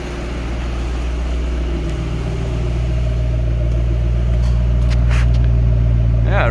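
A Ford 4.6L engine idles steadily and loudly up close, a smooth, even drone that builds slightly in level throughout.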